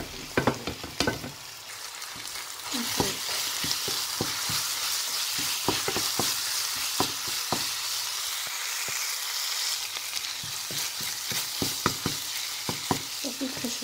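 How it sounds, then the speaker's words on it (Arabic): A spiced filling stirred and fried in a pan for savoury pastries, with a steady hiss of frying under repeated sharp scrapes and clacks of the spoon against the pan, close and fairly loud, no talking. "صافي غادي نخلطو هادشي هذا حتى تجانس مع العطريه"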